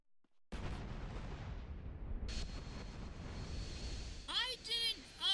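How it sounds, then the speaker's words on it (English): A plane blows up after a single gunshot in GTA San Andreas: a sudden loud blast swells into a sustained, roaring rumble, with sharper crackling pops breaking through toward the end. "I fired one shot, and the whole plane blows up."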